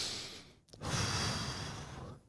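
A conference speaker at a DevOpsDays talk in Warsaw takes a deep breath: a short breathy intake, a brief pause, then a longer, louder exhale close to the microphone.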